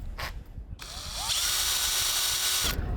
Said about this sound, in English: We're drilling a ton of holes in the mast